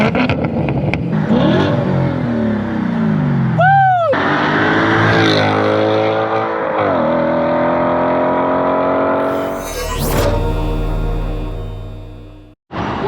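A loud 4.2L V8 engine in a 2011 Audi S5 with aftermarket mufflers and a resonator delete revs repeatedly with a deep throaty exhaust, pitch rising and falling through several sweeps, close by, ending with a sharp blip.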